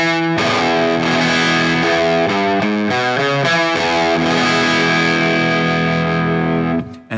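An electric blues lick on a distorted, effects-laden guitar fitted with Elixir strings, loud and close: a struck chord, a run of quick single notes, then a long sustained ring cut off sharply at the end.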